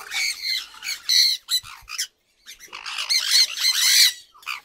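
Conure parrots, including sun conures, squawk loudly and repeatedly up close in bursts, with a short gap of quiet near the middle.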